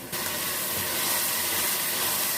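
Tomato and green chili go into a frying masala and set off an abrupt, loud, steady hiss that stays close and unbroken for the rest of the moment.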